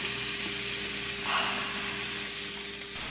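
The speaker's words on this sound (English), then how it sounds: "time to put our fish in. Ooh, sizzle." Fish hitting a hot pan gives a steady, close hiss and sizzle of frying that keeps going for the whole moment, with a slight swell partway through. No one talks over it.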